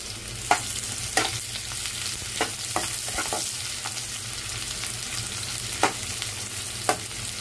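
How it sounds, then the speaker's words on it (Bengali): Chopped garlic and onion fry in hot oil for a bitter gourd lentil dish, a steady close sizzle broken by several sharp scrapes and clicks of a stirring spoon against the pan. "রসুনটাকে হালকা করে একটু ভেজে নেব। দিয়ে দিব পেঁয়াজ কুচি"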